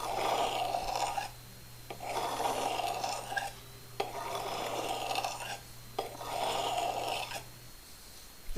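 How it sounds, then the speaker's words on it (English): A handmade blacksmith knife is sharpened in four long, steady rasping passes separated by brief pauses, each stroke loud and close, with a low constant hum underneath. "Sharpen up your knife."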